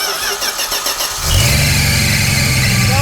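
Cheap turbocharged six-cylinder car engine with a choke cranking, then catching and settling into a loud, steady idle with a rising whine, the start landing about a second in.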